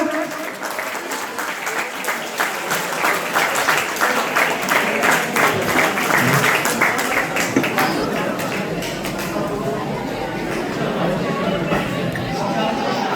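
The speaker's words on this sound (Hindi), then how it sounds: "जोरदार तालियों से स्वागत करें दोनों का।" Audience applause welcoming chief guests at a school felicitation ceremony, a loud sustained round of many hands clapping, with a voice and crowd chatter mixed in.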